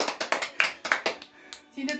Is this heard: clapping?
yes